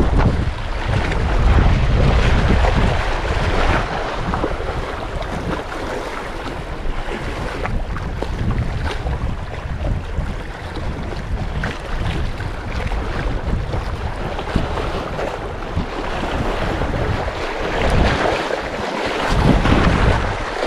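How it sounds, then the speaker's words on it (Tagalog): Strong wind roars across the microphone at sea near Delma Island while lure fishing, gusting heavily over the wash of waves, with no voices. "Lumalakas po yung hangin."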